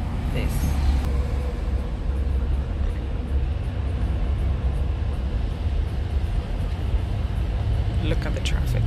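Road traffic rumbling as a steady, dense broadband roar from engines and tyres, loud and continuous throughout, with people talking faintly underneath.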